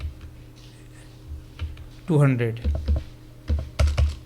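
Computer keyboard typing while amounts are entered into a purchase-order form, soft scattered key taps sitting beneath a nearby voice speaking in Hindi.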